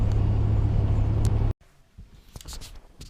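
Car driving along a road through Cadillac, a steady low engine and road rumble that cuts off abruptly, followed by quieter scattered rustles and light knocks.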